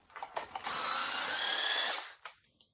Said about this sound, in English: Remove these 2 screws.